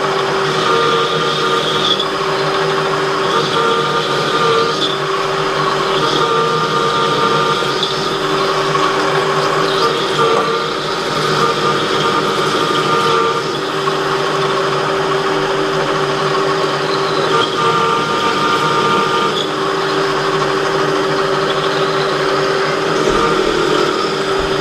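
A metal lathe drills into the locking bar of a folding shovel, a continuous whirring, high-pitched machine tone, loud and sustained with slight fluctuations throughout.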